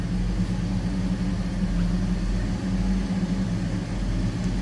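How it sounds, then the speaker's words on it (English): A 1985 Chevrolet Camaro Berlinetta idles steadily, its engine giving a low, deep, throaty exhaust rumble that stays even and close throughout with no voices. "Nice deep throaty exhaust note on that one."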